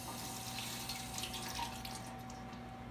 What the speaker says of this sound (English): Come around this time to rinse it